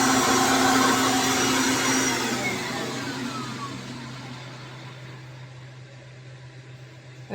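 A Kirby vacuum cleaner fitted with a hose runs loud and steady, then winds down gradually with a falling whine as the motor slows, no voices present.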